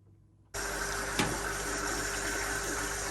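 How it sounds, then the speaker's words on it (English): Water being siphoned out of a fish fry tank during a water change: after a brief quiet moment, a steady, close rushing flow starts abruptly and runs on continuously. "So I'm just siphoning out some of the water at the moment"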